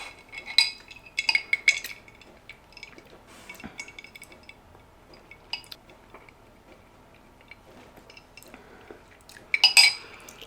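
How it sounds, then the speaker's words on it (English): A spoon clinks against a glass while stirring a drink, giving a few faint bright taps and tinkles near the start and a louder burst at the end, with quiet handling noise in between. "Maybe just a little stir."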